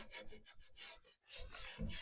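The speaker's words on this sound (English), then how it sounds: "So I'm just using steel wool to make sure that everything is kind of knocked down a little bit" Steel wool scrubs over a spray-painted wooden bench in quick back-and-forth strokes, a close, soft scratchy rasp with a brief pause midway.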